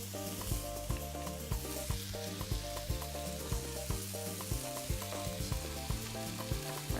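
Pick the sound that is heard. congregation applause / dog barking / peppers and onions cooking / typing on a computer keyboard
peppers and onions cooking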